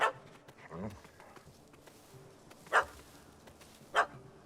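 A puppy barks in The Witcher 3: Hearts of Stone, with two sharp, fairly loud barks spaced over a quiet game backdrop and a brief whine near the start.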